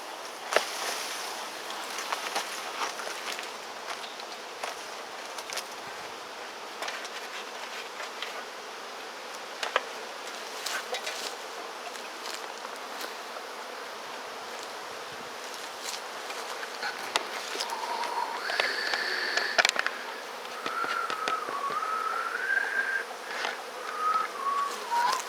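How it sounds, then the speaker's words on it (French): Honeybee swarm buzzing steadily while being knocked into a bucket during capture outdoors, a dense, fairly faint hum with scattered individual bees zipping close past. "On va donner un grand coup pour faire tomber les abeilles à l'intérieur du seau."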